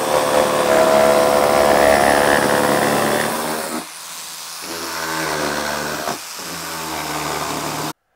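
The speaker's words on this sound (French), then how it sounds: "Et on va découper ça à la scie sauteuse cette fois-ci." A jigsaw cuts fir wood for the roof of a Warré beehive, giving a loud, steady buzzing whine that pauses briefly twice and then resumes before stopping at the end, with no talking.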